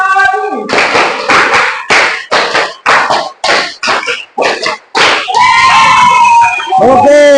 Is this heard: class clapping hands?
yes